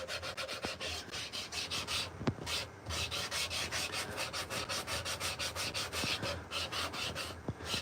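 Rhythmic back-and-forth rubbing of sandpaper on a carved wooden spoon, steady strokes repeating close by with no talking.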